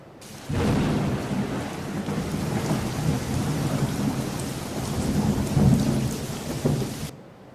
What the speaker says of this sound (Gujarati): હવે વાત કરીશું સૌરાષ્ટ્રમાં વરસી રહેલા વરસાદ વિશે